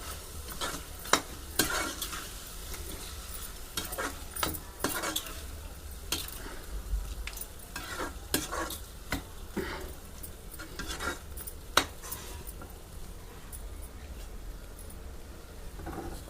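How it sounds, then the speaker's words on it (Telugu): A spoon scrapes and clinks around a pan in irregular strokes as spices and salt are stirred into chicken and egg curry over a wood-fired stove, food sizzling softly underneath, with no talking. "మసాలాలు, ఉప్పు తగినంత, ఇలా కలుపుకొని"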